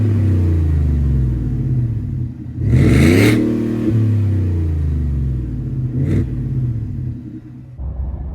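A supercharged 5.0 Ford F-150 pickup accelerates hard at about half throttle, its engine note rising in pitch through the gears with a brief shift break, loud and close, then settling.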